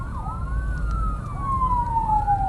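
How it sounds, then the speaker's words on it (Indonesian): An ambulance siren wails with rising and falling tones over road traffic rumble in Kudus, fairly close and steady. "Rame guys. Ambulan rame. Oh, Iki ambulane."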